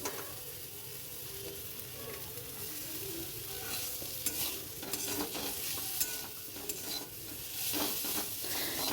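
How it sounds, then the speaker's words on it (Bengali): Chowmein with ground garam masala stirred in a frying pan, giving a steady close sizzle with repeated scraping and light metallic clinks of the spatula, continuous and moderately quiet. "গরম মশলা গুঁড়ো দেওয়ার পর আবার একটু আমি নাড়াচাড়া করে নেব"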